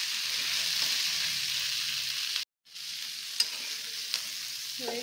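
Capsicum pieces frying in a pan hiss with a steady close sizzle while being stirred, broken by one brief silence midway and a few light clinks of the utensil against the pan.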